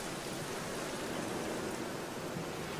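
Steady hiss of rain from the video game Black Mirror, an even, dense patter of falling rain with no breaks or other sounds.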